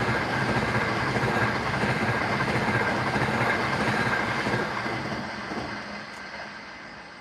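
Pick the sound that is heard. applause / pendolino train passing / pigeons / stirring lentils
pendolino train passing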